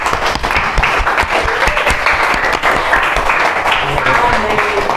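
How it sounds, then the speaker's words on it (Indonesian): Students in a junior high school classroom clap their hands in a dense, lively round of applause that carries on for several seconds at close range. "apresiasi pada diri kalian dalam bentuk tepuk tangan"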